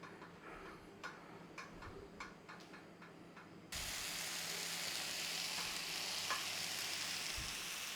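Home-cured bacon drops into a pan with a few light ticks and clicks, then bursts into loud, steady, close sizzling and frying that carries to the end.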